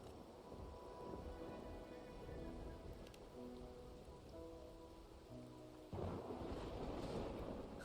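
Steady rainfall with rolling thunder in the game Wuthering Waves, a dense wash of drops lasting throughout, swelling louder near the end, with a faint tonal ambience underneath and no voices.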